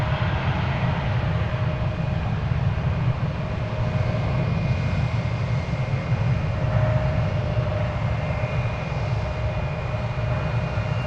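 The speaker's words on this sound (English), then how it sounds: "It's United Airbus A320 is going to Denver." A United Airlines Airbus A320 jet roaring steadily at close range for the whole stretch, a loud, broad engine rumble with a faint whine on top.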